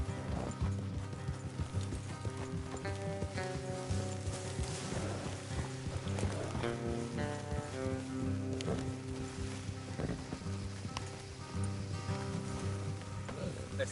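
Horses' hooves clip-clop steadily in the Red Dead Redemption 2 video game as riders move off the road, the rhythmic steps carried under a dense, continuous in-game music and ambience bed.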